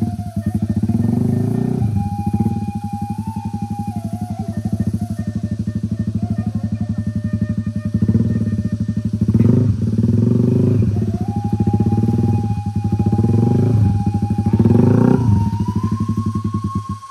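A Honda Sonic motorcycle rides through deep mud on a rural road, its engine droning loud and close with a steady buzzing note, revving and rising in pitch several times as it struggles along, with faint clatter.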